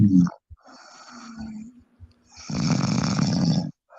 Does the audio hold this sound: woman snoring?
yes